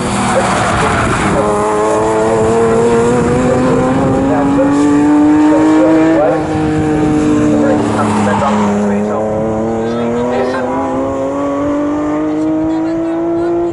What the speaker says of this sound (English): They are the 3 cars that run as part of the pre-2003 section of this race for the touring cars.